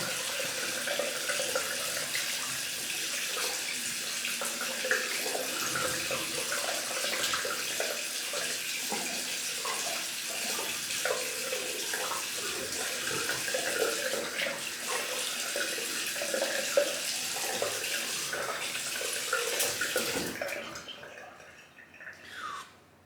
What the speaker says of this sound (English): Just clean the sink out.